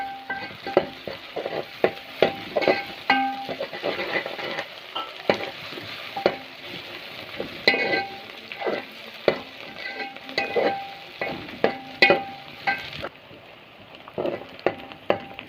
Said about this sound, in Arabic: نزلت بيه اهوت على البصله وهقلبه شويه قبل ما انزل بيه بعصير الطماطم عليه